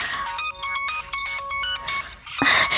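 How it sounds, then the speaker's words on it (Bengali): A phone ringtone plays a bright repeating electronic melody in short pulses, loud and close, cut off by a sharp noise at the end; no talking. "Rahul sir phone?"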